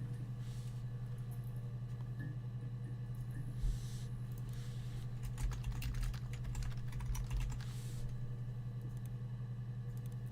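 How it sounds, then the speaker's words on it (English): Keyboard typing in the video game Her Story comes as a scattered burst of quiet key clicks, clustered mostly in the middle, over a constant low electrical hum. "Oh my god, typing!"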